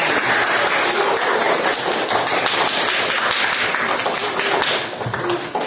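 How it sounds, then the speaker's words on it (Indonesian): An audience at an Islamic sermon and preaching lesson claps at a steady rate, a dense and fairly loud spell of applause that eases off near the end. "Terus tepuk tangan untuk kita."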